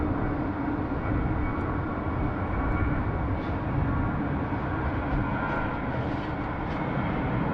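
An airplane at Sydney Airport, likely a Link Airways Saab 340, rolls for takeoff on runway 16 right as a steady, loud, broad engine roar carries through high wind with no voices.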